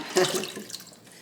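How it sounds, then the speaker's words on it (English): Water poured from a cup into an Instant Pot's inner pot, a short splashing gush that starts loud and quickly tapers off to a soft trickle. "We've got a cup of water that we're going to put in our Instant Pot."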